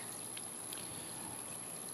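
Water trickling through a siphon into a container, a faint, steady thin stream of running liquid with no voices over it.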